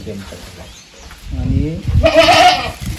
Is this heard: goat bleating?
yes